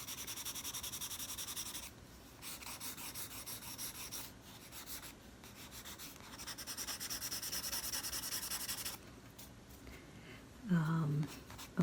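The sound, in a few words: rubbing pencil drawing with finger to blend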